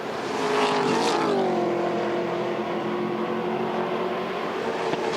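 Holden V8 touring race cars at Pukekohe circuit roar continuously at high revs, engines rising and falling as they pass, loud and steady without speech.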